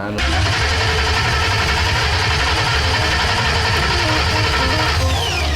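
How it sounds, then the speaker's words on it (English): A Ford Coyote V8 swapped into an F150 pickup runs loudly and steadily up close, a dense rumbling idle that fills the whole stretch while people talk over it. "That's the motor running, guys."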